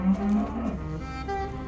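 A calf being sold at a cattle sale moos close by in a short, drawn-out call with a strong harmonic tone that fades toward the end.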